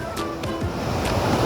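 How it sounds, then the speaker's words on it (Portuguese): A waterfall at Cachoeira Encanta near Joanópolis roars as a steady, dense rush of falling water close by, filling the whole moment without pause. "Mais uma cachoeira!"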